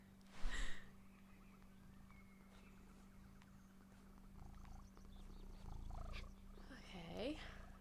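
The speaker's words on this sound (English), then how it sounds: "Yeah, you guys can probably hear her purrs." A cat purrs softly and steadily up close, with some snuffling breaths and faint background murmurs around it.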